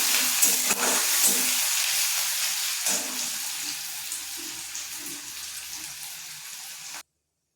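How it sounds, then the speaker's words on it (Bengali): Chopped onion fries in a pan with a bright, hissing sizzle that stays close and steady before cutting off abruptly. "ভালো করে ভেজে নিচ্ছি পেঁয়াজটা"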